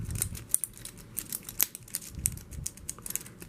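A lock pick works the pins of a Master No. 5 padlock, giving rapid, uneven close-up clicks and ticks scattered across a few seconds over a faint scratchy background, with no talking.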